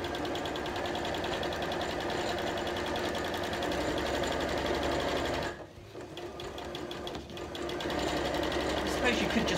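A sewing machine stitches fabric noughts and crosses pieces, running in a steady fast rattle that drops away briefly mid-way, then resumes at full speed.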